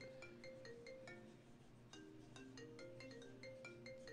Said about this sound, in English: Oh, I'm getting a phone call.